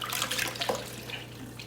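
Warm water in a tray splashes and trickles briefly as it is used to wash a baby's face, close and moderately loud, with no talk.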